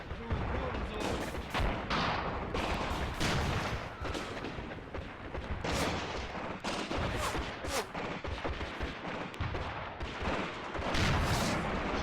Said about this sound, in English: So these guys are going to fire with their rifles, obviously, but now I'm telling them they can use their AT weaponry